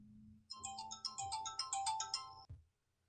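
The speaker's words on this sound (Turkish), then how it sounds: "Evet kusura bakmayın e, telefon sesinden e, durdurmak zorunda kaldım." A phone's electronic ringtone rings close by in a quiet room, a bright repeating melodic pattern of rapid tones lasting about two seconds before it cuts off abruptly into silence.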